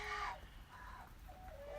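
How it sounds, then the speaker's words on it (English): A rooster in the New Zealand bush gives short, faint clucking calls, a louder burst at the start followed by quieter calls, heard alone against a low outdoor background. "No, that's that naughty rooster there."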